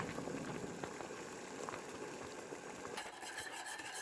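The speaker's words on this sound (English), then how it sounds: "now I'm gonna slowly add it to my boiling water, and I'm gonna stir it the whole time" Wheat flour mixed with water streams slowly into a pot of boiling water for plaster paste while being whisked, giving a steady bubbling and stirring wash with soft utensil scrapes throughout, no talk.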